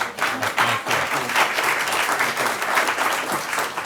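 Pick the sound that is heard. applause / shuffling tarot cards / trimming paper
applause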